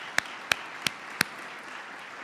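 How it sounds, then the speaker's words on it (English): A few separate claps at a Veterans Day ceremony, four sharp, evenly spaced hand claps over a steady background hiss rather than full crowd applause. "Let's give yourself and all you love a round of applause."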